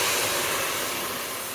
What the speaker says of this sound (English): I can hear them sizzling quite a bit